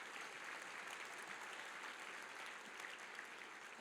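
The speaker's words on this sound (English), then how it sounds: "You can applaud for that?" Audience applause at the New England Council annual celebration, a faint but steady, even wash of many people clapping in a large room, continuous throughout with no talk over it.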